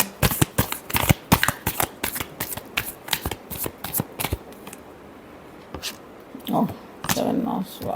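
Tarot cards shuffled in a rapid, close sequence of crisp riffles and snaps for several seconds, then a pause, with a voice briefly speaking toward the end.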